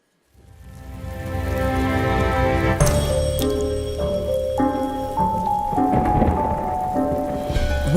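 Heavy rain falls steadily on surfaces, dense and close, with pattering drops and occasional clinking hits building over several seconds.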